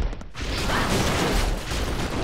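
Shotgun blasts and chaotic gunfire in the run-and-gun video game Broforce, a continuous loud dense barrage with mechanical clatter and no clear pauses.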